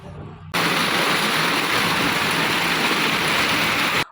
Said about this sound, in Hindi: इतनी तेज़ आवाज़ आ रही थी ओलों की